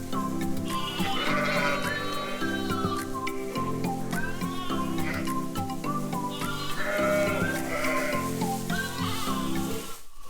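Lambs and sheep bleat repeatedly in a busy lambing pen, many overlapping calls of varied pitch sounding close and loud, continuous with no gaps.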